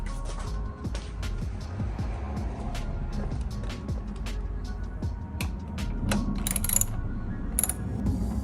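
A bolt on a 2018-2021 Honda Accord hood strut is tightened with a ratchet, giving close, rapid clicking and metallic mechanical ticks throughout over a low background rumble.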